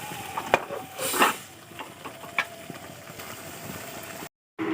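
Boiled potatoes with spices are stirred in a pan on the stove, soft scraping and sizzling with a few sharper utensil knocks over a low steady hum, then a brief drop to silence near the end.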